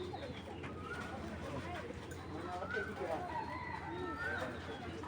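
Soft cooing from a big-sized pair of racing pigeons, a low repeated murmur running steadily under background voices and ambient noise.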